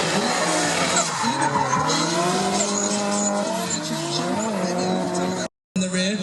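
Tires squeal in long, wavering screeches as a drift car slides sideways at Anglesey Circuit under a loud, revving engine, sustained and close, with a brief cut near the end.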